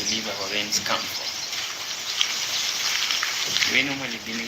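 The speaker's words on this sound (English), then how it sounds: "you can also hear it has begun drizzling outside actually." Light drizzle falling outdoors near a church, a steady soft hiss of fine rain across the whole stretch, with a voice talking over it at the start and again near the end.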